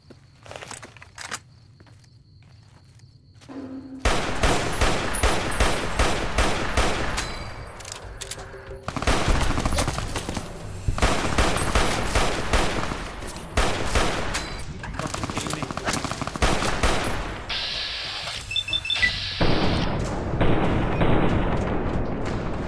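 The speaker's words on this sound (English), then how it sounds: "I'm sure whatever Josh is shooting at is important." Loud volleys of rapid gunfire from Fallout: New Vegas (Honest Hearts), coming in several long sustained bursts separated by short lulls, with no talking.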